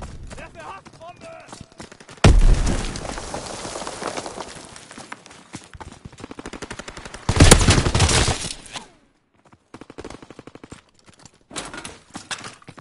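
A bomb blast followed by bursts of automatic gunfire in a World War II combat video game, loud and near, with a shouted voice in the mix and quieter gaps between the sharp, clustered volleys.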